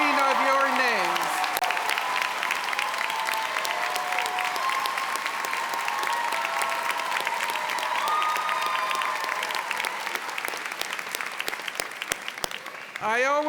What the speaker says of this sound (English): Let's give a round of applause to Assistant Dean Amy Knowles for her readin